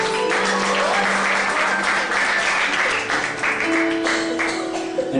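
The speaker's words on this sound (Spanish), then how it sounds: "Dale un fuerte aplauso al Señor" Church congregation applauding loudly and steadily throughout, a dense continuous patter with a few voices and faint tones mixed in.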